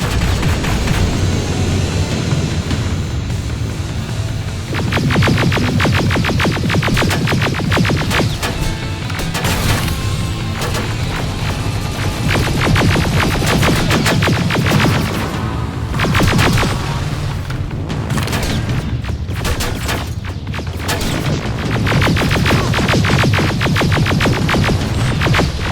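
Sustained gunfire in the video game Terminator Resistance, with dense bursts of rifle shots and booms crowding together in a loud, continuous firefight that barely lets up.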